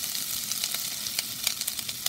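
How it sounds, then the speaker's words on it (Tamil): Ginger frying in a pan of hot fat for rava pongal gives a steady, close sizzle with faint crackles and a few sharper pops, with no talking. "இப்போ நான் வந்து இதில் இஞ்சி போட்டுக்கிறேன்."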